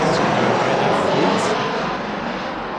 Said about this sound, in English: With the Ryanair coming in this time, A737-800 series.